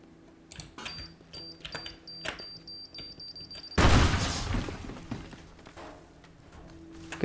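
Bomb blast in the Teardown video game while raiding a seaside clock shop, a sudden loud burst of noisy rumble after a stretch of quiet clicks and small knocks, decaying over a few seconds.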